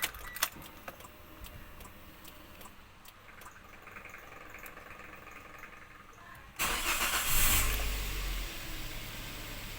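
A 2017 Daihatsu Terios VVTI with a rough clutch-area noise is started nearby. A few faint clicks and rattles come first, then the engine fires abruptly and settles into a loud, steady idle.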